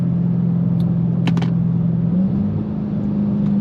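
Dodge Hellcat exhaust through Valvetronic Designs mufflers with the valves closed, a steady low droning rumble that shifts slightly in pitch partway through, close and continuous with no talking.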